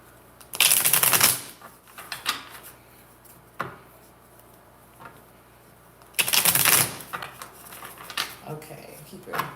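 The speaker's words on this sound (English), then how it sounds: "Okay, I'll do one more. One more shuffle." A tarot card deck is shuffled for a reading in two loud riffling bursts several seconds apart, with softer card taps and handling between them.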